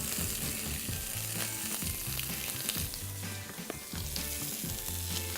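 Food sizzles steadily in rapeseed oil in a griddle pan, a continuous crackling fry with scattered pops and spits, heard alone at moderate volume.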